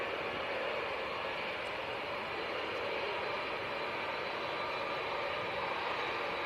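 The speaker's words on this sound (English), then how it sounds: "Saudi to Jeddah, 787 Dreamliner." A Saudia Boeing 787-10 Dreamliner bound for Jeddah roars steadily in the distance, a broad sustained jet rumble with a windy hiss on arrival at Manchester Airport.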